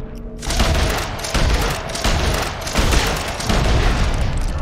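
Loud, dense gunfire in Red Dead Online hits in rapid booming blasts that blur into a continuous roar with heavy low rumble, close and overwhelming for several seconds.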